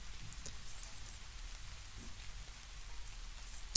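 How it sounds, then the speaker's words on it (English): Soft, steady recorded rain plays quietly in the background, an even patter of drops with no voices over it. "I've turned on some rain noises for myself"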